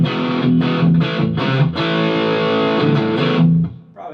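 An electric guitar run through a Boss Blues Driver overdrive pedal plays chunky, crunchy chords in a loose rhythm, loud and up close, then rings out and decays.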